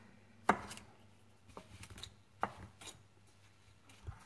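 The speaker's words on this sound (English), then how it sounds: "I'm just gonna crumble this to put on top" Muffin crumb topping is broken up with a fork against a bowl, giving a few sharp, quiet taps and scrapes spaced apart over near silence.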